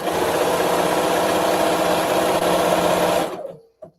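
A sewing machine stitching quilt pieces runs continuously with an odd, off-sounding whir, then stops abruptly near the end, leaving a brief faint clunk.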